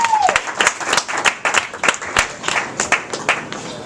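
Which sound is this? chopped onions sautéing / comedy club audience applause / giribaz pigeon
comedy club audience applause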